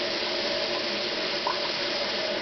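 Water pours steadily into the bottom of a baking pan holding big pieces of gourd or squash, a close, continuous liquid splash with no talk.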